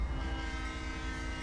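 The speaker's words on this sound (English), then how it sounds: "Toot the horn again." Horn of a Santa Fe C40-8W diesel locomotive in Train Sim World 6 sounds as one sustained, steady multi-tone blast over the low rumble of the engine, loud and close.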